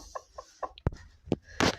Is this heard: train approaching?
no